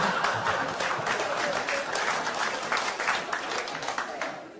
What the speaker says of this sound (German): das war jetzt für Meerbuschen erstaunlich viele Klatscher an der Stelle